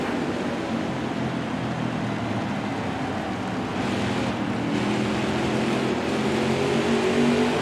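Race cars at Martinsville in a racing video game make a steady, continuous engine drone from the driver's car, with a rising tone as it accelerates and no talking over it.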